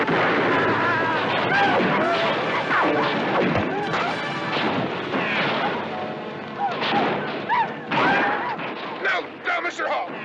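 Rifles crack repeatedly in a western film, sharp shots and impacts scattered through a busy mix, mostly under overlapping talk and shouting voices, loud and close throughout.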